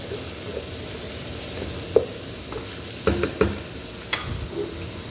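Food sautéing in a hot pan, a steady low sizzle with a few sharp clicks and scrapes of a spatula against the pan, close and fairly quiet.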